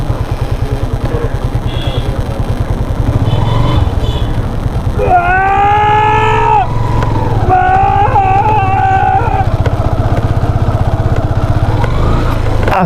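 Yamaha FZS V2 motorcycle ridden along Marine Drive road in Cox's Bazar, a steady close engine drone with rhythmic pulsing, overlaid midway by a loud tonal horn-like wail.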